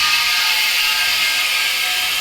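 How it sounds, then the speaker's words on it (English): Pressurized air rushes into the hydraulic tanks of a car lift, a steady, bright hiss with a faint mechanical whir beneath it and no voices. "That's the sound of the air going to the hydraulic tanks."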